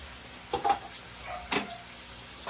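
A child stirs food in a pot with a little water added, making a few light scraping clinks about a second apart over a soft, faint sizzle.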